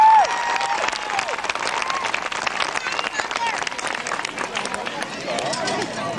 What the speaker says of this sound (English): How about a nice round of applause for all our cowboys in our first section of bull riding?